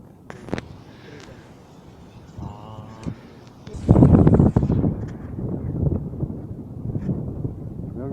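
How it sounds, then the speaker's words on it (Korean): Strong wind buffeting the microphone on Yongmasan mountain in Seoul, a rough steady roar that swells sharply and stays loud through the second half. "오늘 바람, 바람이 심하네요."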